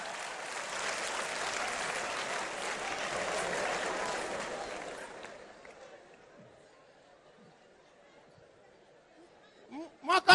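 Audience applause at an African comedy show: a loud burst of crowd clapping lasts about five seconds, then fades to near quiet before a few brief close sounds at the end.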